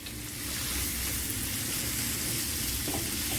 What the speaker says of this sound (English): Let it melt and then we will add our khajur dates